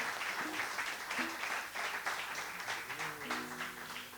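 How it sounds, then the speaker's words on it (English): An orchestra concert audience claps in sustained, even applause, with faint tonal notes from the stage drifting underneath the crowd noise. "But don't you think these artists also deserve a special round of applause?"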